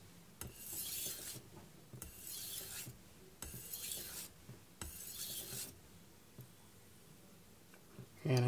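A knife is drawn across a Naniwa Pro 1k or Kitayama 8k whetstone in four distinct, raspy sharpening strokes, then a few fainter, shorter strokes follow in a quiet room.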